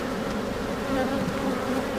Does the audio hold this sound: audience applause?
no